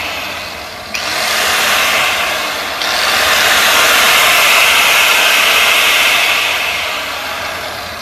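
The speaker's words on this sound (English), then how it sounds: "My old grinder doesn't want to, stay on." An old angle grinder runs while a water tank is cut into a homemade fire pit: a loud, steady, high whirring drone that briefly dips and surges as it struggles to stay on, with no voices.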